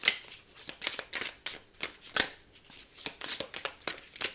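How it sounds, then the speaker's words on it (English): A deck of tarot cards is shuffled by hand close up, with a quick run of crisp riffling bursts and soft flutters at an even rhythm. "The 6 of Swords has fallen out whilst I'm shuffling."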